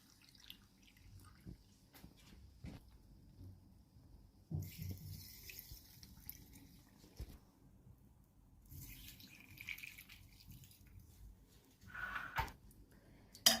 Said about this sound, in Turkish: Birer çay bardağı da sirkesini ekliyorum.